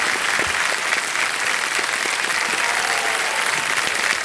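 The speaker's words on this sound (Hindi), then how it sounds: "तालियां बजती रहे इनके नाम पे।" Studio audience applause on the Hindi quiz show Kaun Banega Crorepati, steady and dense clapping filling the whole stretch without a break, with no talk over it.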